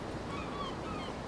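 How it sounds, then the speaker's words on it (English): Sea waves washing on a shore, a steady soft wash of surf with faint bird calls over it, continuous and fairly quiet throughout. "Yeah, the sea, the birds."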